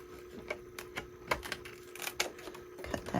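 Scissors snip around a laminated image in short, uneven bursts, crisp close cuts with brief pauses between them.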